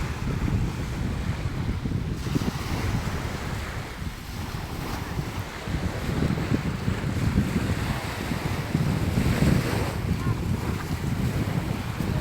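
Strong sea waves roll onto Krating Lai beach in the evening, a continuous loud roar of surf mixed with heavy wind buffeting the microphone.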